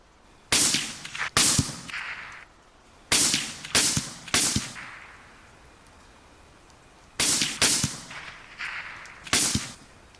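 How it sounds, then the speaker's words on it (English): Three bursts of sharp, loud 5.56 rifle shots firing 55 grain tracer rounds in the rain, two or three cracks per burst with ringing tails, separated by quiet stretches of steady rain hiss. "I'm shooting 55 grain tracers."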